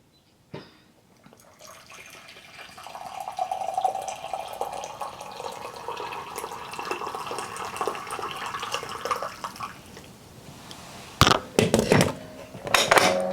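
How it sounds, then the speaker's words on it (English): Tea is poured into a cup: a soft start, then a continuous trickling pour lasting several seconds, followed by a few sharp clinks of the cup and pot near the end. "let me just pour a cup"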